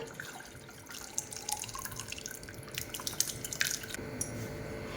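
Split milk curdled with vinegar poured through a thin muslin cloth over a strainer for rasgulla chhena, with whey trickling and dripping in soft, irregular splashes, fairly faint and without speech.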